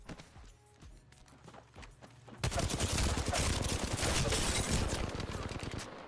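Sudden dense gunfire erupts in Apex Legends after quiet footsteps, sustained rapid shots filling the second half loudly and continuously.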